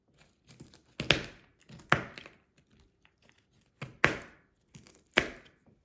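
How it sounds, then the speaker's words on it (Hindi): A knife chops nuts finely on a board for semolina halwa, four sharp, close thuds spaced about a second apart, with faint scraping between strikes. "अब इस नट्स को बारीक काट लेते हैं।"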